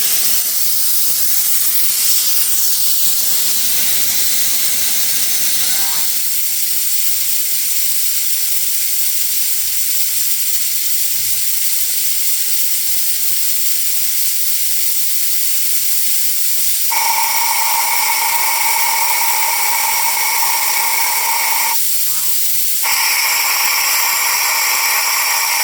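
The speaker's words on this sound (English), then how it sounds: "That's an air compressor for you." A massive 1960s LeRoi trailer air compressor runs loud and close with a continuous roaring hiss, its pitch shifting as the load changes, and brief pauses in the upper hiss near the end.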